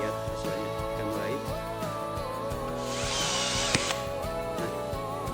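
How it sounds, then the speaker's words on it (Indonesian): A power drill fitted with a rivet adapter attachment, turning clockwise and whirring steadily throughout, with a brighter grinding burst partway through and some mechanical clicks. "Lalu tekan tombol untuk mengarahkan bor searah jarum jam."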